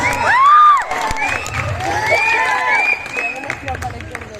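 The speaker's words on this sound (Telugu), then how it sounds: "అన్నను వేదిక మీదకి వెల్కమ్ చెప్తూ గట్టిగా చప్పట్లతో" An audience at a Vinayaka Chavithi celebration claps and cheers as a guest is welcomed onto the stage, with whoops, children shouting and crowd noise under loud, continuous festive applause.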